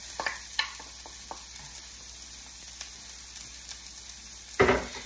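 Onion and garlic sizzle softly in a skillet, a faint steady frying hiss broken by occasional scrapes and stirs, with a louder burst near the end.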